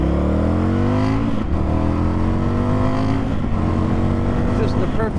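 An Indian FTR 1200 motorcycle hums along steadily in sixth gear around 3,500 RPM, a close, continuous droning engine note with small rises in pitch while riding, mixed with wind rush.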